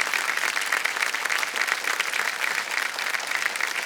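Studio audience on a TV quiz show claps enthusiastically, a steady wash of many hands applauding throughout with no talk on top.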